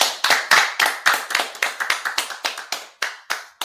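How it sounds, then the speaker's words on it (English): A crowd at a religious gathering claps in rapid, uneven bursts, sharp hand strikes following one another steadily, close and fairly loud with no talking. "All right, clap it up."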